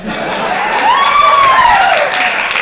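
Audience applause fills a panel session at ROFLcon 2012, steady and sustained across the whole moment, with a whistle-like tone rising and falling in the middle of the clapping.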